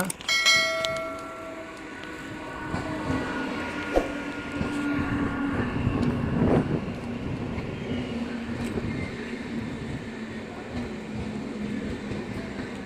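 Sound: Kakinada Town Express train arriving at Nagiri railway station

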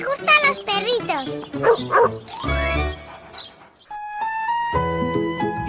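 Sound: cartoon puppies barking

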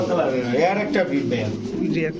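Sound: pigeons cooing

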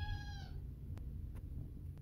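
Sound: cat meowing in fright

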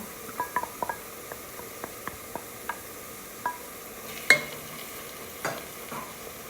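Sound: green chillies frying in tempering

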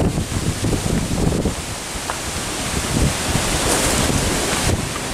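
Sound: wind on a lakeshore

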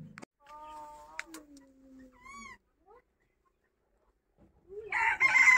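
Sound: rooster crowing and clucking

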